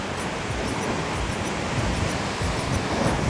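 Strong ocean waves crash against limestone rocks at Fort James on the Caribbean coast of Antigua, a steady, loud roar of surf with gusty wind noise throughout and no distinct breaks between crashes.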